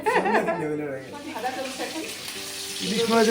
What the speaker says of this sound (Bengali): ভাজা চলছে